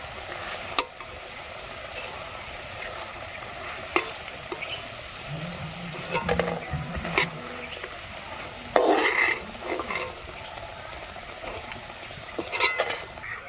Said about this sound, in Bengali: বড়াগুলো হয়ে গেছে, এবার একটা করে তুলে নিচ্ছি।